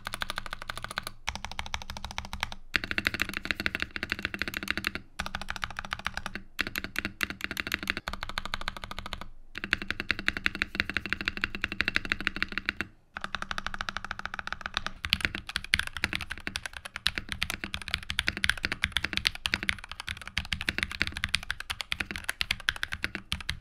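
Typing on a polycarbonate-case mechanical keyboard, a fast continuous clatter of crisp keystrokes with brief pauses, close and clear with no talking.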